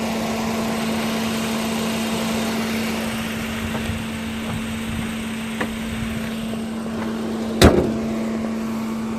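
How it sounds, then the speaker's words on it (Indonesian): A Mitsubishi Xpander Cross with about 21,000 km on it idles with the hood open, a smooth, even, close hum with a steady tone, broken near the end by a single sharp slam. "Sudah pasti suara mesinnya halus karena memang mobilnya masih nyaris baru"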